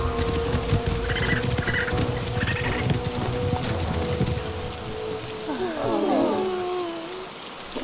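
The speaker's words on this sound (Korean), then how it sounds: "세상이 온통 노란색으로 변하더니 비가 내리기 시작했어요." Rain begins falling in a children's animated story, a steady soft patter spread across the whole scene at moderate level, with light cartoon sound effects and a brief chirping flourish near the end.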